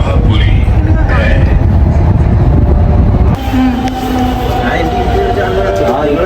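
A Delhi metro train rumbles loudly and continuously nearby, with the roar dropping abruptly partway through to a lighter rolling sound and a faint tonal hum.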